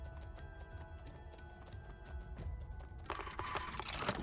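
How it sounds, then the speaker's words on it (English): Small creatures scurry with quick, light, irregular footsteps in the horror game Curse - The Eye of Isis, tapping steadily under an eerie ambient hum and growing busier and louder toward the end. "They got like weird little footsteps."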